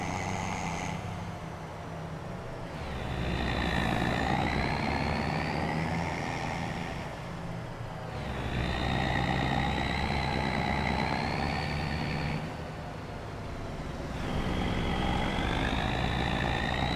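A truck engine in Farming Simulator 25 runs continuously, with a deep rumble under whining tones that swell and fall in three long cycles, with no talking.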